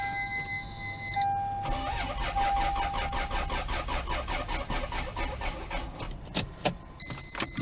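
A Lexus GS300 with a big turbo cranks with a fast, rhythmic whirring of the starter, then catches and settles toward idle, loud and close, with warning chimes before and after.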